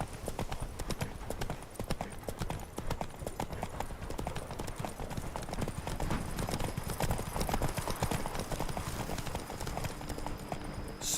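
Roach, a horse in the video game The Witcher 3, gallops with a steady rapid clip-clop of hooves on the ground, continuous and moderately quiet, with faint speech underneath.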